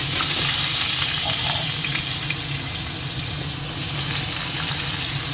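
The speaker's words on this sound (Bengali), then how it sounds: "তেলটা গরম হয়ে গেছে দিয়ে দিলাম আলুটা" Potatoes frying in hot white oil in a wok make a loud, dense, steady sizzle close by, running continuously from start to finish without talk.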